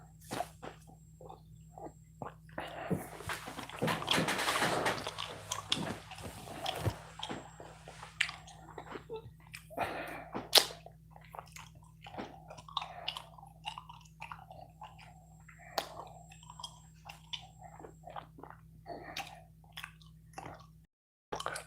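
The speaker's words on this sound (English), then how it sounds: "Just chewing on gum." Gum is chewed close to the microphone, with soft wet smacking and squishing sounds in an irregular rhythm over a quiet hum.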